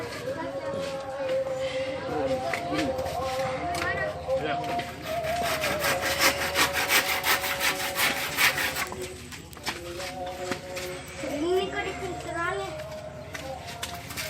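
A hand saw cuts bamboo for a flower rack outdoors, giving repeated rasping back-and-forth strokes under nearby voices talking, including children's.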